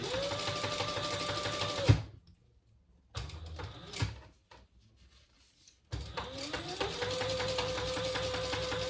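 A sewing machine runs close and loud, basting stitches around a fabric train case in two long bursts, with a pause and quiet handling noises between them.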